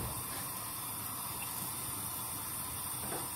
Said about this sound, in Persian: پیازایی که خلال بلند خردش کردیم میریزیم داخل قابلمه و اجازه میدیم سرخ بشه